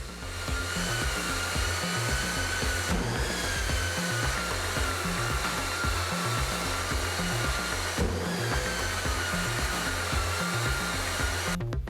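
A Festool Planex LHS 225 extendable drywall sander runs steadily and close up, giving a continuous loud motor whine with airy extraction hiss. Brief shifts in tone mark changes in contact with the wall surface, and no one speaks.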